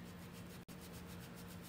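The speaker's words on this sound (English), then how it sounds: "almost like I'm sanding it down with the brush just a little bit" Soft, continuous scratchy rubbing of paintbrush bristles on a wooden sign, close and quiet, with a tiny break partway through.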